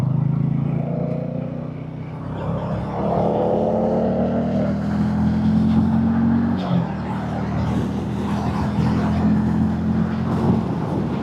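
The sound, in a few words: Hero Hunk 440 motorcycle engine accelerating in third gear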